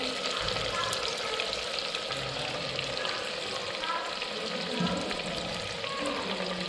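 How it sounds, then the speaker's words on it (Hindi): Marinated chicken pieces frying in hot masala in a pan, a steady dense sizzle and crackle with occasional stirring, a voice speaking faintly beneath. "चिकन डाल लिया है, अब इसको भून लेते हैं।"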